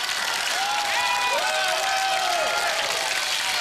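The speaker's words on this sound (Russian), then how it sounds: "Эти аплодисменты тебе." Sustained studio audience applause on a Ukrainian television talk show, a dense, even wash of clapping with a few whoops or voices rising above it.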